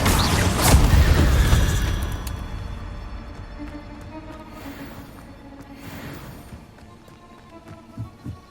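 An Incendio fire spell cast in Hogwarts Legacy erupts as a loud, close burst of flame that fades into a softening rumble, followed by a few faint small pops near the end.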